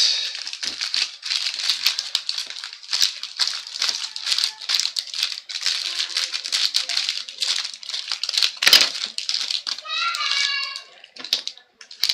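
An empty box, packaging and styrofoam from a Topps Star Wars Galaxy Chrome trading card break are handled up close. Continuous loud crinkling and rustling is broken by sharp scrapes and one hard squeak, with brief speech mixed in.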